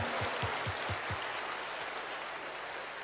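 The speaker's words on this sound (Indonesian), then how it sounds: "Boleh berikan tepuk tangan bagi Tuhan Yesus." Church congregation applauding during a sermon, a steady, fairly quiet wash of clapping with a few soft low thumps near the start.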